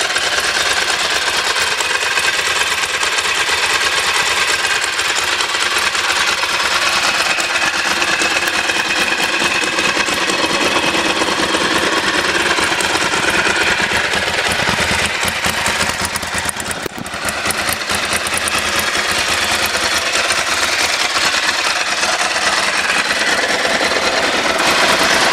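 Ducati 1100 air-cooled V-twin engine in a Bimota motorcycle running steadily, a dense continuous mechanical drone held at an even level throughout with a brief dip midway.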